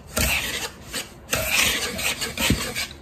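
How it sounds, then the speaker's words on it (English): Salt and baking powder are whisked together in a bowl, giving close, dry scraping and rubbing strokes in an irregular rhythm. "So I'm gonna kind of whisk these together a little bit."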